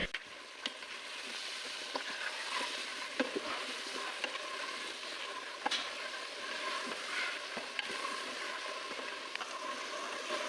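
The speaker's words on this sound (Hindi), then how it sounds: "अब इस प्याज के साथ ही मैं मटन को अच्छे से फ्राई करूंगी।" Mutton frying with onions in a pot gives a steady, dense sizzle and crackle throughout, with occasional sharper pops and stirring clicks and no talk.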